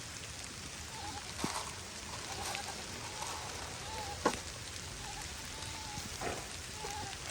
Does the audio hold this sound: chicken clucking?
no